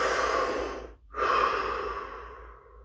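A single deep breath drawn in and let out close to the microphone, a long airy inhale, a brief pause, then a slower exhale fading away.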